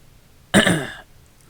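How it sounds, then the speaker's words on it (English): A single short cough or throat-clearing burst, close and fairly loud, then quiet. "Just ate a In-N-Out cheeseburger and now got the grease coughs."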